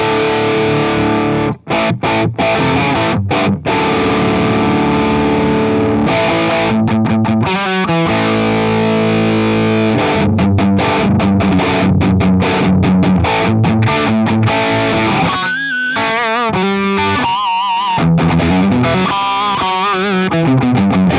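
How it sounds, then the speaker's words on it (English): A heavily distorted electric guitar plays through a BIAS MINI amp modelling different preamp tubes, loud and sustained with dense chords and riffs, and no voices. "let's have a listen to what the different preamp tubes will do to the sound as well"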